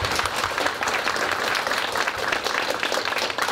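Live studio audience at a startup investment talk-show taping breaks into brief, dense applause, steady and fairly close, with no talking over it.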